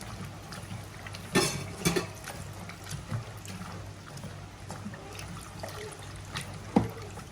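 Water poured into a cooking pan with turmeric powder for a Tamil home-cooked lunch, a faint continuous trickle with a few soft clinks and splashes over steady kitchen background noise.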